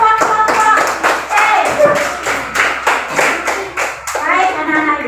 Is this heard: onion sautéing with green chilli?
no